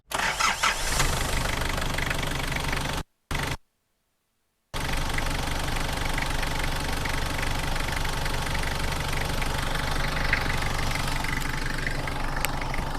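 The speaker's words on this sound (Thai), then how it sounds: "ผมสตาร์ทฟังเสียงเครื่องยนต์ให้ดูครับ" A Nissan TD27 2.7-litre diesel engine in a Nissan Big-M Frontier pickup cranks and catches, then settles into a steady, knocking idle with a short gap of silence partway through; no talking.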